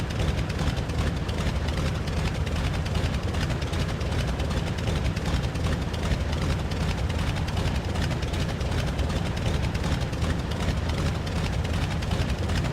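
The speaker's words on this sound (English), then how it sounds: "now let's taxi to the runway and get her in the air" A Spartan Executive aircraft taxiing in Flight Simulator X, a loud, steady droning engine hum with a constant rough texture throughout, no voices.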